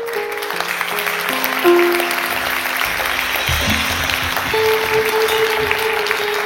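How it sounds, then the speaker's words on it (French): A church congregation applauds during a French-language service, a steady wash of clapping with sustained music tones underneath throughout. "Oui, applaudissez Jésus."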